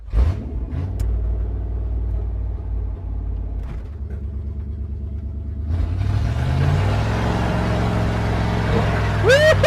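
A 1968 Plymouth Fury barn find with a sticky carburetor and a three-speed automatic rumbles low and steady as it pulls off, the engine note rising as it accelerates, with brief voices and a squeak near the end.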